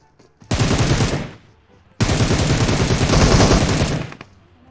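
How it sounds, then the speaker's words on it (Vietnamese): Automatic gunfire in the mobile battle royale game PUBG Mobile: a short loud burst, then a longer sustained volley of rapid shots. "Nó vừa bắn xong."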